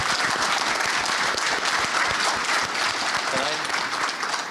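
Steady applause from a conference audience, clapping for charity foundation representatives at a JavaScript developer summit, dense and continuous throughout with some voices mixed in.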